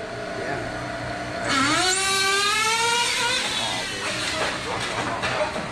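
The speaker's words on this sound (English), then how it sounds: "Car's purring too." A nitro RC drag car's small engine idles with a hiss, then revs up in a rising, whining sweep. The sharp, high buzzing pitch holds close and loud before tailing off, with voices faint in the background.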